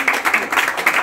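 Quick, steady applause from an audience at a medal ceremony for matric exam results at a coaching academy, a brief burst of close, crisp claps with no one speaking.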